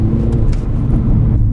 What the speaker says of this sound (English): just putting it in sport mode and accelerating